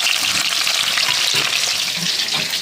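Potatoes fry in a pan for a meat dish, a loud, steady, crackling sizzle of hot oil with occasional stirring scrapes, close up and continuous throughout.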